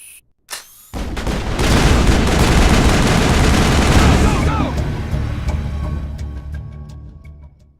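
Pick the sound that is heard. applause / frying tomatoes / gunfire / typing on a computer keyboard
gunfire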